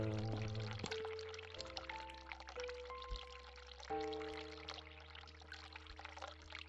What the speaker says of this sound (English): And the hot water tap.